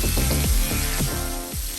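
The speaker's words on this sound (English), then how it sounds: "Make sure you saute it and move it around and everything." Vegetables with carrots sautéing in a pan for smothered pork chops, a steady close sizzle with light scraping and stirring clatter as they are moved around, no talking.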